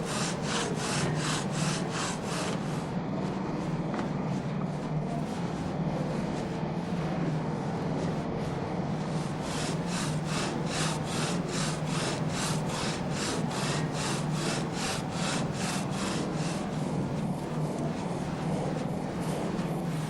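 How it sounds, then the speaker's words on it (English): A large drum saw worked by two people cuts wood in a pit at a traditional scythe forge, a steady rasping grind with regular back-and-forth strokes, close and continuous. "For working with the drum saw, need the 2 workers"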